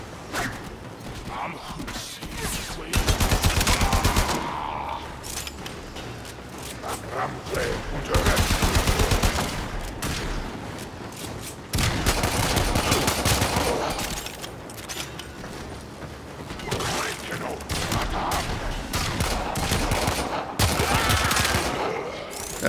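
Pistol fire in the Warframe shooter, loud bursts of rapid shots recurring in several waves over a dense, noisy battle mix with mechanical clatter, while someone talks intermittently.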